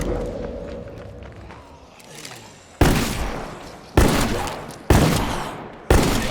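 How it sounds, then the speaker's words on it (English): Long-range shotgun fired in the video game State of Decay 2: four loud, sharp blasts about a second apart, each decaying quickly, after a quieter stretch of faint talk and movement. "it does live up to Careful. what it claims to be. A long-range shotgun."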